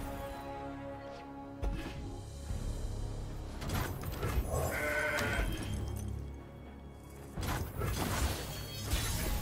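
A Mountain Goat card in the digital card game Legends of Runeterra plays a bleat, with a goat-like cry standing out over layered game music and mechanical effect sounds.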